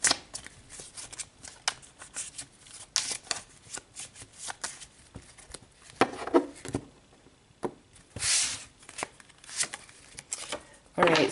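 Tarot cards are shuffled by hand in quick, papery riffles and flicks, repeated in irregular bursts up close while a person talks in between.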